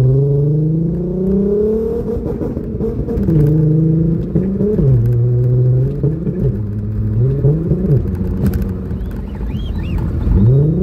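The exhaust of a Nissan Skyline R32 is revved in a rhythmic, rising and falling pattern so the engine drone seems to play a tune. The sound is loud, close and continuous.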